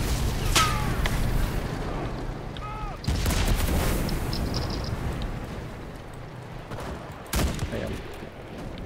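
Explosions and gunfire in the video game Enlisted: sharp, loud blasts crack out at a few points, separated by a steady rumble of battle noise, with faint whistling sweeps mixed in.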